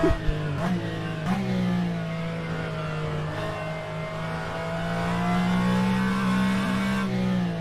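A GT3 race car engine in the sim racing game Assetto Corsa Competizione holds a steady, droning harmonic note at moderate volume, with brief gear-shift blips near the start and pitch swelling slightly toward the end.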